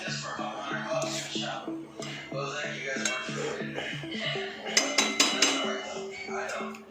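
A spoon spreads a layer of paneer tikka gravy in a pot for biryani, giving soft scrapes and light metallic clinks against the pot that sharpen into several quick taps toward the end.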